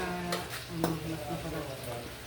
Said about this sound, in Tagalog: Yung mga sahog, pinapa-brown ko muna.